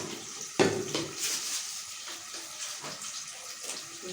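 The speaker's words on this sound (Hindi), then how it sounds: "इसको धो के लेके अपनी आलू को, देखिए आलू को अच्छी तरह से धो लिया है।" Potatoes are rinsed under a running kitchen tap, a steady close splashing and trickle of water with a sharper knock of handling near the start.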